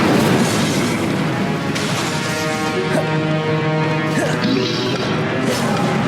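Booming fire-spell blasts from Incendio in Hogwarts Legacy, a loud, dense run of crashing impacts and bursts over a continuous roar of combat effects, with no pause throughout.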